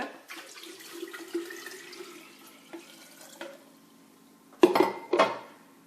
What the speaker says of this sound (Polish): teraz dolewam dobrej jakościowo wody.